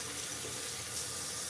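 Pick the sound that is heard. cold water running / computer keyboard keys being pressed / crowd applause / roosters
cold water running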